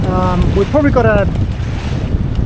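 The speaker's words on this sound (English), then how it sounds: "like now, getting a bit of a gust" A gust of wind roars across the sailboat Spellbound on Norfolk Bay, Tasmania, as a loud, buffeting rumble against the microphone, with someone talking briefly over it.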